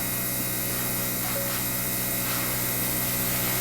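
An airbrush with a 0.3 needle at 12 to 15 psi sprays paint onto a Kotare Messerschmitt Bf 109 K-4 scale model, a steady close hiss of air that holds constant throughout, with no talk.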